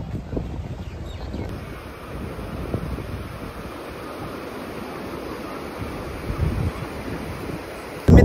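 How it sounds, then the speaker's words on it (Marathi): Sea waves at Arnala beach roll and wash in a steady, broad surf roar, heavy with wind buffeting the microphone, with no voices. "लाटा लय खवलल्यात लाटा दाखवतो तुम्हाला आता"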